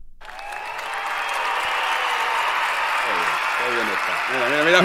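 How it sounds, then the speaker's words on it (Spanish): Applause sound effect played during a Spanish football talk show, a sustained bright wash of clapping at full level, with a speaking voice cutting in near the end. "Ponme aplausos."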